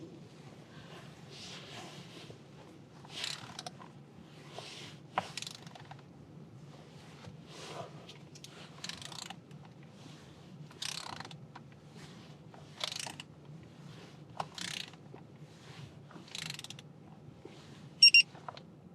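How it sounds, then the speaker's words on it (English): A ratchet wrench clicks in short, quiet bursts while it is turned on a Tesla Model X steering wheel fitting, the ratcheting repeating every second or so over a low hum. "realize it's a ratchet."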